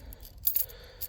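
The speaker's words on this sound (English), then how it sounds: "So, got a few keys here." Keys for a 1994 Chevrolet C1500 Silverado pickup jingle briefly up close, a few light metallic clinks in quick succession with no talking.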